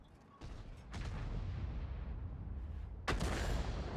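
Two heavy cannon blasts from a Lorraine 155 mle.51 tank in World of Tanks on the El Halluf map, each a sudden booming report followed by a rumbling tail, the second louder and sharper.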